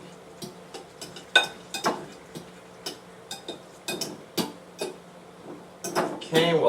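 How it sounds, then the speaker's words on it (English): A spoon stirs par-cooked chicken and stuffing in a microwave dish, making a series of close clinks and scrapes against the bowl in an uneven rhythm, with a busier burst of clatter at the end. "Going to give it a bit of a stir."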